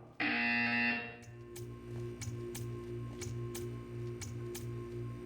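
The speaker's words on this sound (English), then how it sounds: "You will hear a buzzer." A loud, steady buzzer tone sounds in the Portal 2 video game for about a second, then stops, leaving a low electronic hum with a regular ticking under it.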